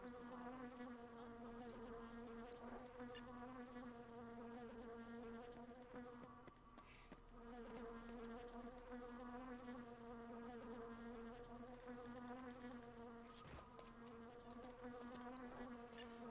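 Bee enemies in the video game Dead Rising 2 drone with a constant, loud insect buzz that persists throughout, steady and unbroken apart from a brief dip midway.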